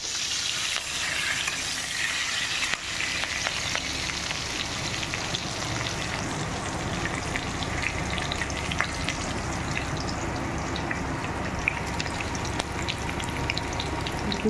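Green chillies fry in leftover oil reused from making bhujia for a beans sabji, giving a continuous dense sizzle and crackle that holds steady throughout with no voices.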